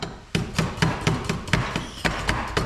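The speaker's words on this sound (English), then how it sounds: "It's always my least favourite part of cooking dinner is screwing the cooker into the gas." Camping cooker being screwed onto its gas canister in a mountain cabin during a snowstorm, giving a rapid series of close, sharp metallic clicks and knocks over a couple of seconds.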